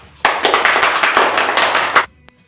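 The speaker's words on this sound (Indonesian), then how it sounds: "Berikan tepuk tangan untuk Desi." A classroom of students gives a brief, lively round of clapping for a classmate after her correct answer, steady for about two seconds before stopping abruptly.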